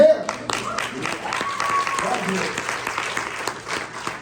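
Audience applause fills a keynote hall in a steady, dense wash of claps lasting several seconds, with a voice faintly present underneath.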